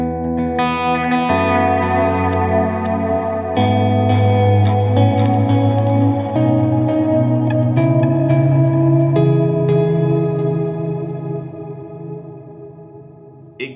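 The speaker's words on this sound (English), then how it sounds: "the reverb in it sounds really nice" Guitar played through a Line 6 Helix ambient reverb with exaggerated pre-delay: sustained chords and notes blooming into a wide, washy tail, loud and continuous, with no voices.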